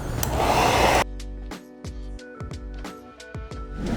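Heat gun sealing chrome delete vinyl wrap on the rear trim of a 2021-2024 Nissan Armada: a steady, loud blowing hiss for about a second, then it cuts off, leaving other quieter sounds.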